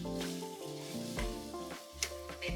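Steady sizzling and crackling of food sautéing in hot oil for a tamarind curry with green turkey berries, with occasional stirring clinks, continuous and fairly close.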